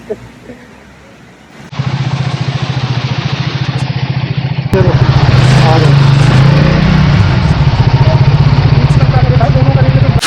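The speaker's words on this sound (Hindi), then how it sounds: "तो उज्जवल की बाइक अभी स्टार्ट नहीं हो रही है और हम जंप स्टार्ट करने की कोशिश कर रहे हैं पूरी।" A motorcycle engine that would not start catches while being jump started on a misty ride, settling into a loud, steady near-field idle that grows louder midway, with voices partly under the engine noise.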